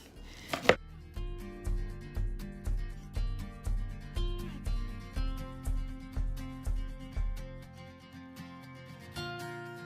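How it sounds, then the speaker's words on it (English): A knife chops vegetables finely on a cutting board for a quinoa tabouli salad, giving a loud, close, steady run of about fifteen evenly spaced sharp thuds, with no voices. "I'm gonna really chop mine up several times to make sure it's to his liking"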